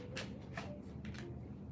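Tarot cards riffle and slide in a few quick bursts, close and soft, over a quiet room.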